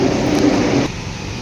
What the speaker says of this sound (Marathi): मेट्रोचं काम पूर्ण झालं. त्यामुळे आता मेट्रो जायला लागली.